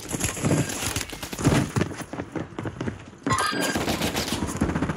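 Rapid bursts of automatic gunfire in the shooter game Warzone, loud and close, crackling through the whole stretch with dense overlapping shots and a brief lull before firing resumes.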